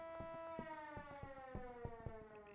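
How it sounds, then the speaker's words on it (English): A curfew siren in the video game Schedule 1 wails as a steady tonal blare with a regular pulsing rhythm, fairly faint and heard alone. "That was a siren to let you know that curfew's here."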